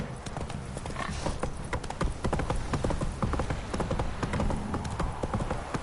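Roach the horse's hooves clip-clop in a quick, steady rhythm in the video game Witcher 3, close and clear with a faint whinny.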